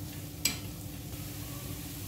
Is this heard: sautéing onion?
yes